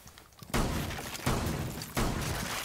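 Three loud shotgun blasts ring out in the Rainbow Six Siege game, spaced roughly evenly, each a sharp broadband boom followed by sustained noisy decay, with no talking.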